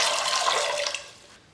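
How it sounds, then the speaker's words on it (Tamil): Water is poured over chickpeas in a pressure cooker, a close, bright splashing rush that runs steadily and then tapers off as the pour ends. "கொண்டக்கடலை முழுகிற அளவுக்கு தண்ணி ஊற்றினா போதும்."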